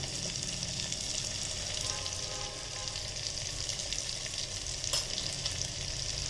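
A spiced masala of chutney powder and chili powder sizzles and fries in a pan while it is stirred. The hiss is steady and close, and there is no talking.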